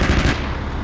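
Bushmaster autocannon fire from an M6 Linebacker in the DCS World combat game, a loud dense burst of rapid shots for about a third of a second before dropping into a lower rumbling tail.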